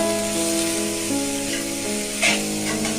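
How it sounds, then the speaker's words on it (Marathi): Fenugreek leaves for methi bhaji sizzle in a hot pan as they are sautéed, a loud continuous frying hiss with a brief sharper burst from stirring. "भाजी यामध्ये मस्त अशी परतून घेऊया."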